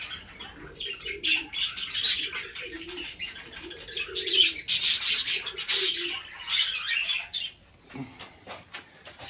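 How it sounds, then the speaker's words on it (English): Aviary flight of finches or small birds with doves, a busy mix of bright chirping and tweeting, soft low cooing phrases, and scratchy rustling throughout, with no speech. "And just a few birds down there."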